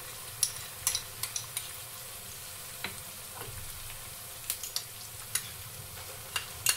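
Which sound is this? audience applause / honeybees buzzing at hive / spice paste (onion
spice paste (onion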